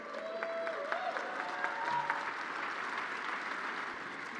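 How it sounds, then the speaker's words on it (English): An audience claps steadily for a graduating class of the Emerging Leader Institute, a sustained wash of applause at moderate distance with a faint voice briefly over it. "Let's give them a round of applause to this year's class"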